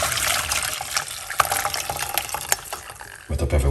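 Garlic energy drink liquid being poured off from a pot, a splashing, gushing stream with irregular spatters, close and fairly loud, ending with a low thump.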